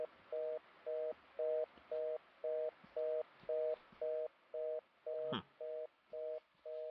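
A telephone in the video game The X-Files: Resist or Serve plays a steady busy tone, short evenly spaced beeps repeating about twice a second, clean and close, with one brief click partway through.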